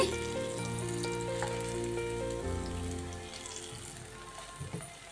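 Steady crackling sizzle of bitter gourd pieces frying in hot oil, close and continuous, with a low hum underneath and some tonal clatter early on.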